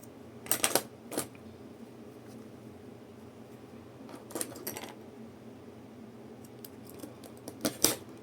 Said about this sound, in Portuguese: Aqui eu vou cortar o excesso.